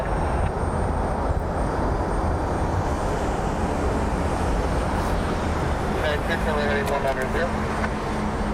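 A NetJets Embraer Phenom business jet arrives on an inbound flight from Youngstown, a steady broadband engine roar that holds level throughout, joined near the end by a rising whine, with light background traffic noise.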